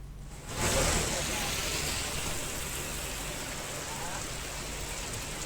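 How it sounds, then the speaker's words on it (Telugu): Heavy rain pours down with thunder and lightning in Tadepalligudem, West Godavari, a dense, steady hiss that swells after a quiet first half-second and then holds constant. "పశ్చిమ గోదావరి జిల్లా తాడేపల్లిగూడెంలోనూ ఉరుములు, మెరుపులతో కూడిన భారీ వర్షం కురిసింది."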